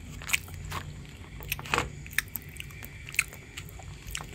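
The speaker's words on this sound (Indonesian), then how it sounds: "saya akan coba untuk segi rasanya. Biskuitnya renyah" Close, crisp crunches from biting and chewing a crunchy chocolate cream biscuit snack, several sharp bites followed by softer chewing, with no talk.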